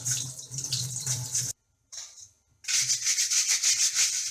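Running water from a tap splashes over a Bosch dishwasher micro filter being rinsed and gently rubbed, loud and close, broken by a brief pause before the flow resumes.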